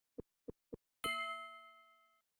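Three soft low thumps in even rhythm lead into a bright bell chime that rings out and fades over about a second, the sound a character makes when writing in the video game Petscop.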